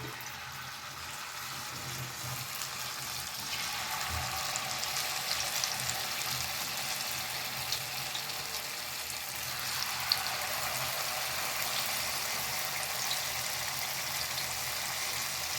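Banana fritters, batter-dipped Kerala-style bajji, frying in hot oil over a medium flame: a steady, fairly quiet bubbling sizzle that runs throughout with a few faint clinks.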